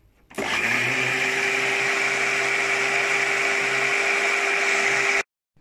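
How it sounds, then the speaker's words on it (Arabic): An electric blender whirs steadily at close range for about five seconds, running Nutella sauce ingredients with oil added, starting and stopping abruptly. "بعد ما ضربتهم حطيت الزيت آخر حاجة، هبتدي اضربه معاهم."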